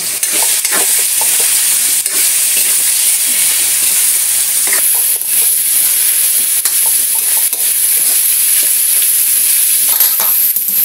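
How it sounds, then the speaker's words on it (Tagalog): Kamansi (breadfruit) chunks are stirred in a cooking pan over a steady, loud frying sizzle, with repeated close scraping strokes of the spoon throughout. "Pwede na natin ilagay ito. Kamansi. Haluin natin."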